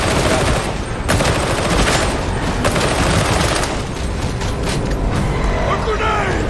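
Rapid bursts of gunfire from the Starship Troopers video game, dense and loud almost throughout, with heavy crackling volleys, sharp blasts near 1 and 2.5 seconds, and excited voices talking over the shooting.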